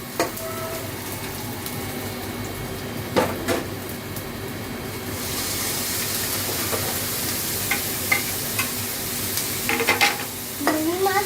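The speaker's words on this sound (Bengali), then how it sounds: "আমি ভালোভাবে পেঁয়াজ আর ক্যাপসিকামগুলো ভেজে নিচ্ছি।" Onions and capsicum fry in a pan for a Thai vegetable shrimp soup, a steady sizzle with spoon stirring and scraping clatter, growing brighter and louder midway, with occasional clinks near the end.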